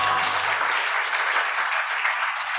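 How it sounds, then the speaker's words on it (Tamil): A church congregation claps together during a Sunday service, a loud, dense burst of hand clapping that holds steady for a couple of seconds without any voice over it. "ஒரு கைத்தட்டு கொடுங்க பார்க்கலாம் ஆண்டவர்."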